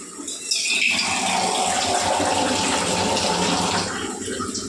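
Water gushes into a cooking pot in a steady, loud pour for a few seconds, then tapers off, with a soft knock at the start.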